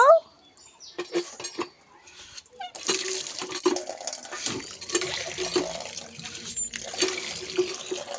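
Running water splashes steadily while something is washed, following a few soft knocks and clatters at the start, and continues at moderate loudness with faint handling sounds.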